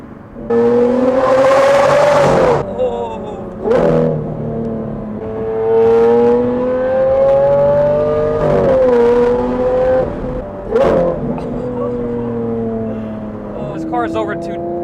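A Lamborghini Aventador with an aftermarket exhaust pulls hard, its engine note climbing and dropping through several loud rising sweeps between gear changes, heard close from inside the car with brief talk in the gaps.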